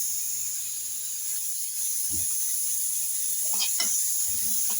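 Onion slices softening in a pan for a moussaka-style dish, giving a steady, soft broadband sizzle throughout, with a couple of brief clinks or stirring knocks near the middle and end and no talking.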